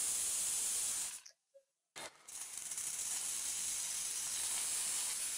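A pressure cooker on the stove cooking sweet pongal of rice and lentils lets out a loud, continuous steam whistle and hiss that cuts out briefly near the start, then resumes steadily.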